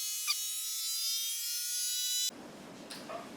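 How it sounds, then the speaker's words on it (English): A FoodSaver vacuum sealer runs its pump to draw air out of a storage canister through a hose plugged into the lid, giving a steady, close electric whine that cuts off abruptly, followed by softer handling noise. "Then you press the vacuum, which is for the canister."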